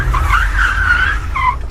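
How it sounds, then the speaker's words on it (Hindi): A car brakes hard, its tires squealing in a loud, sustained skid for over a second before a brief second squeal, heard up close with no talking. "तभी गाड़ी में जोर का ब्रेक लगा"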